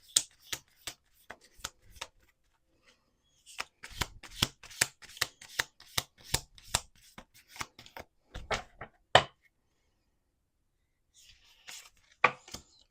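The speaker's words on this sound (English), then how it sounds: "We're going to do 2 more shuffles." A deck of picture cards being shuffled by hand, close and crisp, in several rapid bursts of riffling snaps and flicks separated by short pauses.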